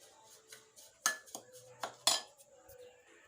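A utensil clinks and scrapes against a bowl while baking powder is stirred into cupcake batter, with a few sharp metallic taps standing out among softer stirring sounds, close up and without talk.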